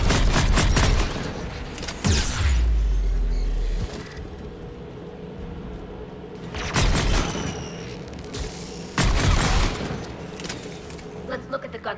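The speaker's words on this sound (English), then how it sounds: "Aircraft guns are up ahead." Anti-aircraft guns firing in Mass Effect 3 on Rannoch: heavy, rapid bursts of booming fire in several waves, with deep rumbles between them, under someone speaking.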